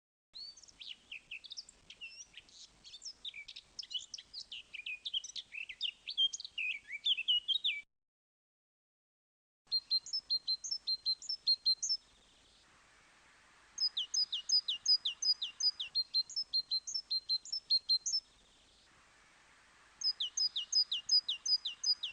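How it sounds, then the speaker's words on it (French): A Eurasian blackcap sings in clear, close bursts of rapid, fluting warbled phrases. The song comes in several separate runs with short silent gaps between them, with no voices or other noise. "La fauvette à tête noire."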